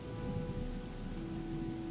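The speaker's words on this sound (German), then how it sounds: "Es regnet immer, wenn es regnet." Steady rain falls in the video game Odyssee, a soft, even hiss with a low hum beneath it, moderately quiet and continuous with no voices over it.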